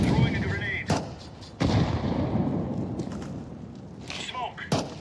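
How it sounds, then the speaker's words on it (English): A grenade blast in Counter-Strike 2 lands as a few sharp, loud bangs over steady game noise, with bursts of gunfire nearby and faint voices in the background. "Throwing a grenade"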